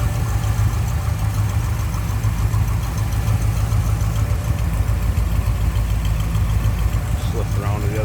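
A 1957 Ford Fairlane 500 convertible with a 312 V8 idles smoothly, a steady low rumble with even rhythm heard close up in the engine bay, with faint voices alongside.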